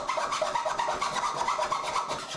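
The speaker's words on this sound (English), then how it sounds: "used a file to clean up the slot" Rapid back-and-forth rasping of a metal file cleaning up a coin slot in a wooden elephant bank, close and steady in even strokes, with no talking.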